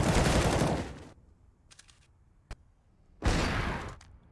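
M4A1-S rifle fire in Counter-Strike on the Overpass map, two dense bursts of rapid shots at the start and end, with a short faint burst and a single sharp crack in between.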